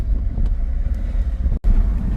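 A Kia Sorento with low fuel pressure and loss of power running on the road, its engine a steady low rumble mixed with road and wind noise, briefly dropping out for an instant before resuming.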